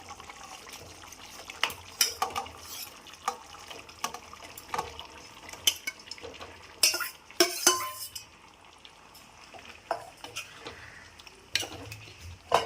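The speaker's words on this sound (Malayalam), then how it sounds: "നന്നായിട്ടൊന്ന് ഇളക്കി കൊടുക്കാം" Irregular scraping and clinking of a utensil stirring chicken into a boiling curry paste in a pan, with soft sizzling underneath and a few louder knocks, no talking.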